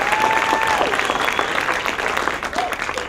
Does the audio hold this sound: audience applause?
yes